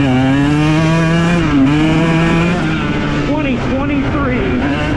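A 2023 KTM 125 XC two-stroke dirt bike with throttle body injection rides on trails. The engine revs up loud and close, then drops and wavers as the throttle changes, and a voice talks over it.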